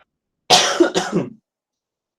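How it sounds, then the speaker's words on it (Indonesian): A single close, harsh cough in two quick bursts, followed by silence. "malah batuk"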